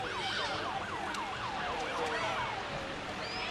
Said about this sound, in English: And we have another ambulance rescue unit.